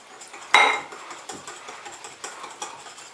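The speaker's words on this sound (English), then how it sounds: "I'm using a whisk. You hurry up and whisk that right up." A wire whisk stirring chocolate pudding mix and milk in a bowl: a sharp clink, then a run of quick, light rattling strokes against the sides, close and fairly quiet with no talking.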